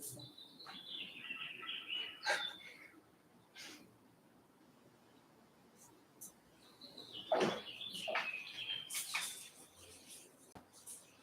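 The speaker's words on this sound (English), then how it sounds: "Maybe the birds, a good example." Birds sing outdoors in faint, scattered chirps and trills, in two bursts some seconds apart over a quiet ambient background.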